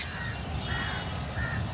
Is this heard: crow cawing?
yes